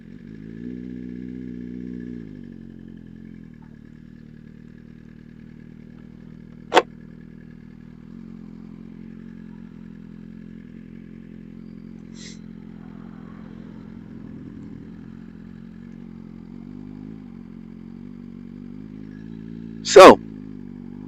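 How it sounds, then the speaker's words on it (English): A Suzuki GSX-R motorcycle idles and rides with a steady low engine drone throughout, with brief sharp clicks or knocks near the middle and end. "So let's hop on the GSX-R and have a ride"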